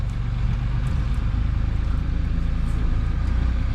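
A 1970 Mustang Mach 1, unmoved for over 40 years, rolls slowly outdoors toward gravel, giving a steady low rumble and grinding drone that stays loud and constant throughout.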